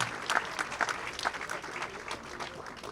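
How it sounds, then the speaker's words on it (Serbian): Applause from a seated audience at a public panel discussion, a fairly faint, steady patter of many hands clapping for about three seconds with no talking. "pa molim aplauz i za njega, nije uspio da stigne"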